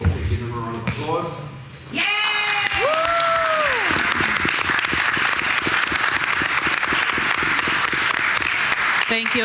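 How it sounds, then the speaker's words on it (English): Audience at a board of education meeting breaks into loud, sustained applause that fills the room, after a brief voice and some other vocal sounds at the start. "give them a round of applause"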